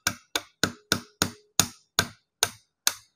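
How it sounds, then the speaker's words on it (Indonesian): Hammer tapping a flathead screwdriver to loosen a screw on a Discovery telescope, nine sharp metallic knocks in a steady, unhurried rhythm, close and clear with no talk. "Saya pakai obeng min sama palu."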